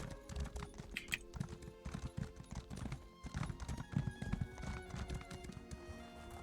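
Horse hooves clip-clop steadily in a fantasy video game, with a horse neighing amid the trotting; the hoofbeats are close and continuous over a busy background bed.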